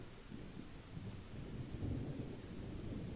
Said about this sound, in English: I don't like the sound of the wind.